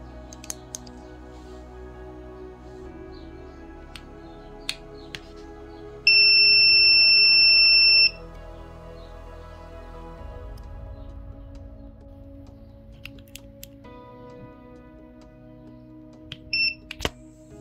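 A single long, steady beep from an Arduino device signalling a missing, defective or unsupported card rings out for about two seconds, with a brief double beep later, amid quiet clicks and tapping.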